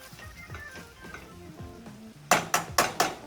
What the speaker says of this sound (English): give the zucchini and the pork one more little stir.